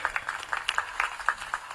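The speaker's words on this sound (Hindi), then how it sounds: "इसके लिए भी आप नरेंद्र मोदी जी का तालियों से" A rally audience in Chhattisgarh claps to welcome Narendra Modi, giving a faint, distant patter of scattered handclaps with no voices over it.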